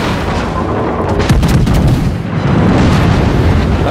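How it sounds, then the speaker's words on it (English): A full broadside from the battleship USS Ohio in World of Warships, a loud continuous barrage of heavy naval guns booming and rumbling for several seconds with no talk over it. "I'm going to give them a broadside"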